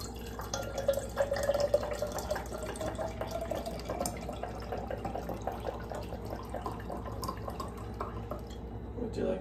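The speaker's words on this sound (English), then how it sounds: "I am going just to pour" Seattle coffee trickles into a cup in a steady, close pour with faint dripping and splashing, continuing for several seconds in a quiet room.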